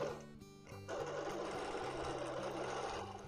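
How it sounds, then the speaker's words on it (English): A sewing machine runs steadily while stitching a quilt, a close, continuous rapid mechanical hum after a brief slower start, with no talk over it. "Since the machine is stitching in a perfectly straight line now"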